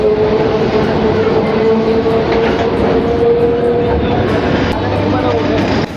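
Kolkata local train pulling out of Khidirpur station, a loud continuous rumble of wheels and carriages with a steady tonal whine from the motors, heard from on board.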